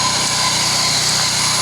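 A knife maker's belt sander, also used for grinding drill bits, runs at a steady, loud, continuous whir with a constant motor hum and no breaks.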